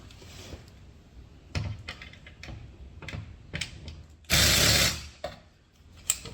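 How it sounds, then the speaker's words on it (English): A screwdriver backs out screws from the rear door speaker of an Audi S5 B9.5, giving sparse ratcheting ticks and clicks with a loud, brief burst of rustling noise partway through. "there are 3 screws in there that I need to take out"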